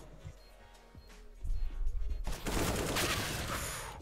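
Rapid gunfire bursts in the shooter game CS:GO: a few sharp distant shots first, then a dense, loud volley of automatic fire that continues to the end.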